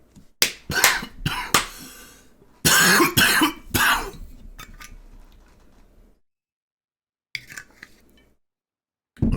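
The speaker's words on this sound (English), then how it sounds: "Sorry, that frickin' cough is killing me." A fit of harsh, close coughing, several loud bursts in quick clusters, then quiet with one smaller cough near the end.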